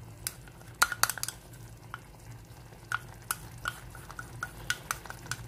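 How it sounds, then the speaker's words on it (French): A spoon scrapes and clinks against a pot of African tomato sauce with garlic, soft sharp taps at an irregular rhythm over a low, steady simmering hum, close and fairly quiet with no voices. "Je vais continuer à tourner"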